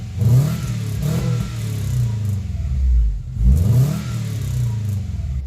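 The engine of a 2000 CR-V (RD1), lifted four inches, revs up twice, swelling to a loud roar and dropping back to a rough, steady idle between the revs.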